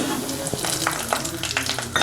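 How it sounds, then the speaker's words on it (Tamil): Peanuts frying in hot oil for a mixture snack, a busy crackling sizzle with small pops and stirring scrapes, close and continuous. "அடுத்தது வேர்க்கடலை பொரிச்சு எடுத்துக்கலாம்."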